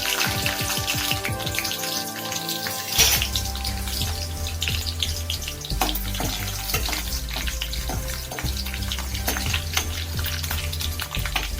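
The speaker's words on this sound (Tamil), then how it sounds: "கடுகு வெந்தயம் பொரிஞ்சிட்டு இருக்கும்போது பூண்டு லைட்டாக தட்டி வச்சிருக்கேன் அதையும் சேர்த்துக்கிறேன்" Mustard seeds, fenugreek and lightly crushed garlic frying in hot oil, a loud continuous crackling sizzle close up that holds steady throughout, with no talking.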